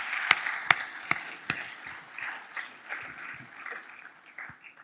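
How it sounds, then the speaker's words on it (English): Modest audience applause at a tech community anniversary event, a few loud nearby claps at first, then softer mixed clapping from a smaller crowd that gradually tapers off. "Why don't we give a round of applause for a lot of hard work that went into all of this?"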